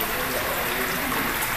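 Water pours steadily into a newly built aquarium pond as it is first filled, a constant close, broadband rush and splash with no pauses.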